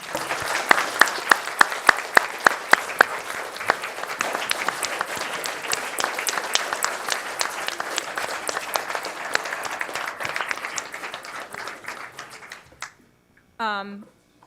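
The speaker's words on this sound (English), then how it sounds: "a huge round of applause for him as well" Audience applause at a Cecil Township Board of Supervisors monthly meeting, a sustained round of many hands clapping close by that runs about twelve seconds before stopping abruptly, followed by a brief voice.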